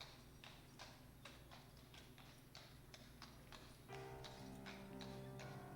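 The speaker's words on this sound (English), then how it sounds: "Is that a horse?" Horse hooves in the video game The Last Door clip-clop in a steady, even rhythm at moderate distance over a quiet background hum, joined midway by a low sustained tone.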